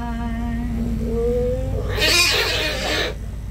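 An aggressive cat yowls in a loud, drawn-out caterwaul that rises into a harsh, noisy hiss-like screech near the end, close to the microphone with no talk.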